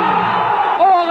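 A packed football stadium crowd in Bremen roars loud and sustained after a Werder Bremen goal, a dense wall of cheering with no breaks.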